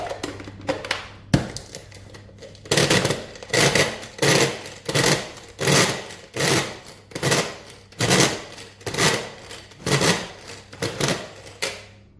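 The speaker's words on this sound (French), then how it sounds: "je vais le mettre dans mon hachoir, donc je le coupe en petits morceaux" An electric food chopper cuts food into small pieces in a run of about fourteen short, loud, close motor bursts, spaced evenly with brief pauses between them, after a few quieter taps at the start.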